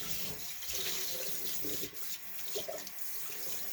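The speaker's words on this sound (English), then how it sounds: "Okay, now what I want to do, I'm washing this crock out." Tap water runs steadily into a sink while a crock is rinsed out under it, a continuous close splashing wash with small shifts as the vessel moves through the stream.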